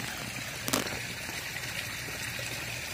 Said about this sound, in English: It's pumping out the clean water.